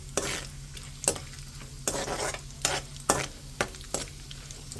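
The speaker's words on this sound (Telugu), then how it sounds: "ఈ డ్రై ఫ్రూట్స్ మొత్తం మంచిగా ఫ్రై అవ్వాలి, బ్రౌన్ కలర్లో రావాలి." Dry fruits being fried in a pan for carrot halwa until brown, with a steady low sizzle broken by repeated sharp stirring scrapes at a regular rhythm, close and moderately loud.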